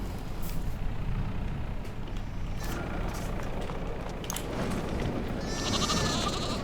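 Sheep bleat repeatedly in Farming Simulator 22 on a realistic farm map, several animals calling over a low rumbling vehicle-like drone, with a brief hissing burst near the end.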